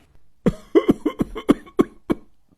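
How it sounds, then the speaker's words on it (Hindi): A person coughs repeatedly, about eight harsh coughs in quick succession, close and loud, with no talking. "खांसी आ रही, मैं पानी लेकर आऊं?"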